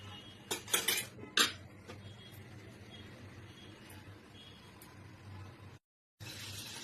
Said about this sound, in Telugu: బాండ్లు పెట్టుకోవాలి ఫ్రెండ్స్ ఇప్పుడు పెట్టుకొని ఆయిల్ వేసుకోవాలి